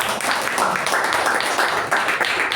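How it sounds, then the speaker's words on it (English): Applause at a Toastmasters club meeting, a moderately loud, fairly dense patter of clapping from a small gathering, fluctuating slightly over a couple of seconds with no talk. "Huge round of applause to him"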